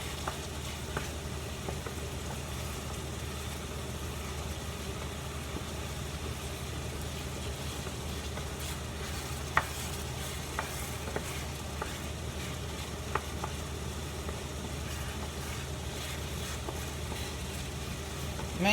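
Meat sizzling steadily in a pan for a spicy pasta sauce, with occasional scrapes and clinks as it is stirred; a constant moderate frying hiss with low kitchen hum underneath.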